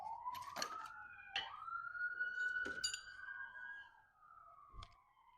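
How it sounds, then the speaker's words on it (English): Emergency sirens going off on Main Street in Boonton, a rising and falling wail heard faintly from outside over several seconds, broken by a few sharp clicks and knocks nearby. "I don't know if you could hear that, but there's sirens going off."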